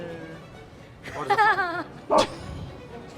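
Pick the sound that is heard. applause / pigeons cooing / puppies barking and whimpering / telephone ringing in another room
puppies barking and whimpering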